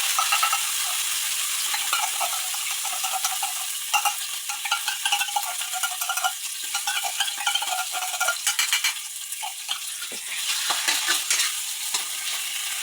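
Corned beef frying with garlic and onion in a pan, a steady loud sizzle throughout with frequent scraping and stirring clicks of a utensil, no voices.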